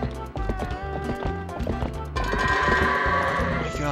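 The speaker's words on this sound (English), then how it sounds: "The horse that is trying to hurt you." Rapid hoofbeats of a galloping horse in The Legend of Zelda: Twilight Princess, with synthetic, game-like tones and a rising tonal layer, loud and continuous, no talking.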